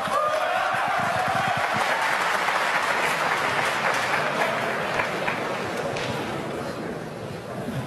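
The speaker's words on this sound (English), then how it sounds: "The crowd roaring Ding on" A snooker crowd roars and applauds Ding in a packed arena, a dense sustained wave of clapping and cheering that stays loud before easing slightly toward the end, with voices mixed in.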